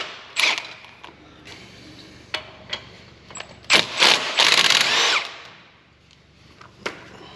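A socket wrench loosens the brake caliper bolts with a 13/16 socket during a hub bearing replacement on a solid axle, giving scattered creaks, clicks and metallic scrapes with a louder grinding burst near the middle.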